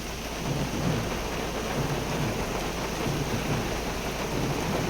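Heavy summer downpour over a wheat field pours down steadily with thunder rumbling underneath, a loud, dense wash of sound with no voices.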